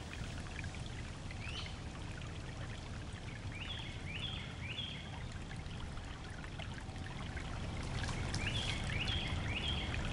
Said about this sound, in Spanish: el agua de un estanque que recorre el gran patio central